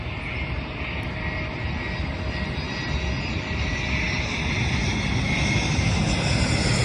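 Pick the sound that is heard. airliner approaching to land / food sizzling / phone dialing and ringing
airliner approaching to land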